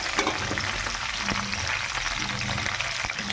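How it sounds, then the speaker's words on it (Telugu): Cumin, mustard seeds, onions, green chilies and curry leaves frying in hot oil for an eggplant and chili curry, a dense close crackling sizzle with scattered popping and stirring, no voices. "జీలకర్ర, ఆవాలు, ఉల్లిపాయలు, పచ్చిమిరపకాయలు, కరివేపాకుని వేసుకుంటున్నాను."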